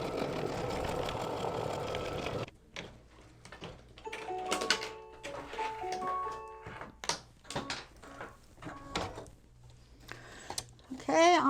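An embroidery machine stitching a monster face onto an in-the-hoop bag, running quick rhythmic needle bursts with pauses, close and moderately loud, after a brief stretch of louder mechanical noise at the start.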